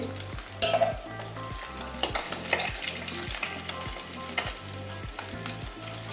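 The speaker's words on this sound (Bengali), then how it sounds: "এগুলো এরকম লাল লাল করে ভেজে নেবো এবারে মাছগুলো ভাজা হয়ে গেছে" Pieces of katla fish frying in hot oil until browned, a steady close crackling sizzle with occasional stirring scrapes, no voices.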